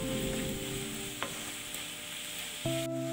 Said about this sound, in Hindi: और अच्छे से मसाला फ्राई होने तक मिक्स करेंगे